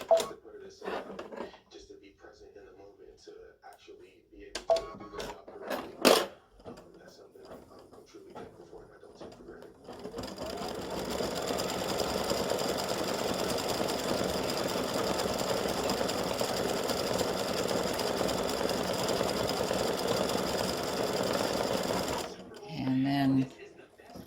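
An embroidery machine stitches a Mardi Gras gnome design in yellow thread, a loud, continuous rapid mechanical chatter running for about twelve seconds after some handling clicks and brief talk.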